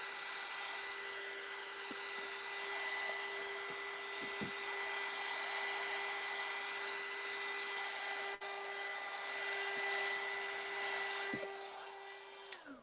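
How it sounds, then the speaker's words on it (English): A heat gun blows steadily over cookie icing, a continuous loud airy whoosh with a constant motor whine, running unbroken for several seconds before briefly dropping near the end. "I'll go ahead and use the heat gun again, like right here"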